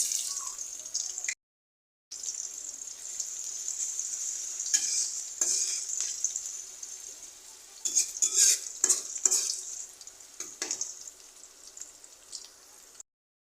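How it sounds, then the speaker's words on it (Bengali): Sliced onion frying in oil with black cumin in a pan, a bright steady sizzle broken by spatula stirs and clinks against the pan, close and alone. "পেঁয়াজটা হালকা ভেজে নেব।"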